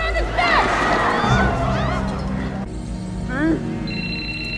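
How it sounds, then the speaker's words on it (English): A telephone rings in a tense crowded scene from The Batman (2022) film, its electronic tone sounding amid crowd hubbub, shouting voices and a rising score, loud and close. "The phone calls for the Batman"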